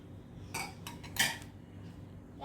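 Boiled bamboo shoot and shrimp tipped into a kuija mortar bowl, giving a few quiet clinks and scrapes of utensil against the bowl in bursts over a low room hum.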